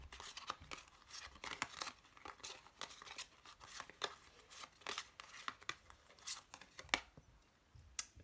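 Tarot cards are shuffled by hand in quick, irregular riffles and slides, each one a soft papery crackle heard close and quiet.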